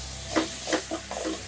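Tomatoes sautéing in a pan, a low constant sizzle with three or four short stirring strokes in quick succession, close and moderately quiet, with no voices.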